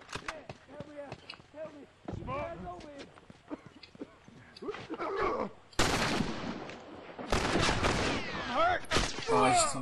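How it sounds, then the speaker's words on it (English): Bursts of gunfire ring out during a multiplayer match of The Last of Us, clustered cracks and rapid volleys scattered among stretches of player talk, growing louder and denser toward the end. "Someone shooting from behind."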